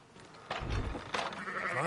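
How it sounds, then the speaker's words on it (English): A sheep bleats in Red Dead Redemption 2, a short wavering call followed by a second bleat, fairly close and moderate in volume over faint background noise. "Fine sheep."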